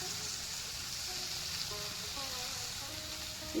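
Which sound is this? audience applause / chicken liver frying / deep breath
chicken liver frying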